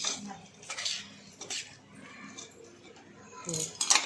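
Syrup-soaked boondi is mixed for motichoor laddu, with clinks and scrapes of a spoon against a metal vessel in uneven bursts while a person talks over the stirring.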